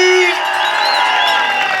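A loud crowd cheers, whoops and shouts for a performer at a lively anniversary show, a dense continuous roar with a brief louder tone at the start.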